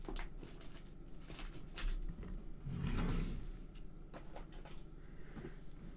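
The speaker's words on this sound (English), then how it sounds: "My paper's jamming up in my drawer." Desk drawer sliding shut while crafting with paper punches, one brief, muffled rumble in the middle of a quiet room.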